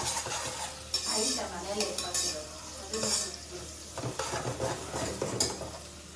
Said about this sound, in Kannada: ಈರುಳ್ಳಿ ಹಾಕಿ ಚೆನ್ನಾಗಿ ಫ್ರೈ ಮಾಡಿ